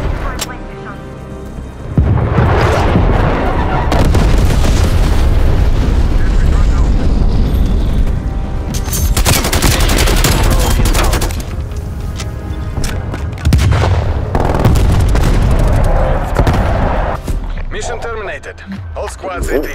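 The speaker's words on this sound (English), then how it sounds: "napalm strike inbound" Napalm strike and gunfire in the multiplayer video game Call of Duty: Black Ops Cold War, with loud rumbling explosions and booming blasts that roll on almost continuously, while voices speak over the din.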